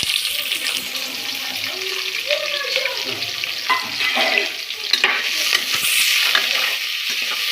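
Onions, curry leaves and chopped chilli fry in a pan for veg biryani, giving a steady close sizzle with occasional stirring scrapes and clinks throughout.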